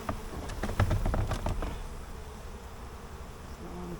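Honey bees swarm and buzz in the air around open hive boxes during messy work on a burr-comb-filled hive, a dense close hum with a few louder passes early on, then a steadier drone.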